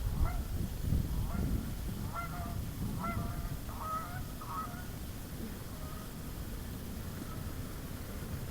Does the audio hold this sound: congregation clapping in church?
no